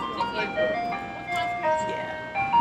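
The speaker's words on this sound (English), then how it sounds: "that ice cream truck, all year around." An ice cream truck jingle plays outdoors near a garden, a simple tinkling melody of repeated short notes heard at moderate distance, with voices talking over it.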